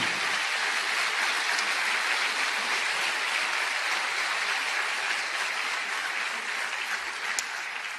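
Sustained audience applause fills a church during a Spanish-language sermon, a steady dense wash of clapping held at an even level throughout and easing slightly near the end.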